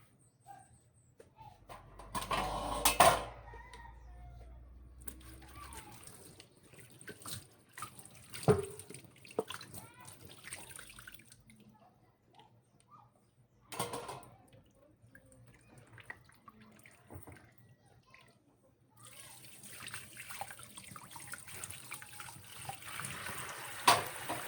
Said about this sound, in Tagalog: Hugasan din natin ang mga gagamitin nating kasangkapan sa pagluluto.